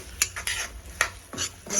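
A utensil scrapes and knocks against a pan while tomatoes and turmeric are stirred together, four or five quick close clinks and scrapes over a faint background, with no voices.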